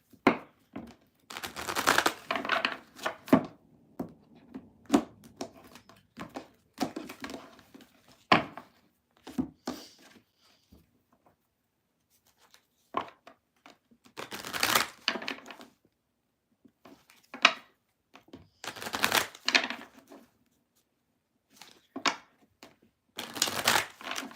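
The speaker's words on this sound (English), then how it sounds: "It's a lot of shuffling." Repeated bursts of cards being shuffled and riffled, crisp rapid flutters in clusters separated by short quiet gaps, close to the microphone.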